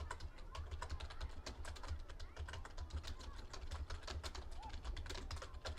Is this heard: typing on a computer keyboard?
yes